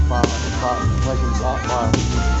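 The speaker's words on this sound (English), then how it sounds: "It's like Harry Potter fireworks." Fireworks at a public display in Woking Park, UK, pop with two sharp, distant bangs over steady crowd noise and nearby voices.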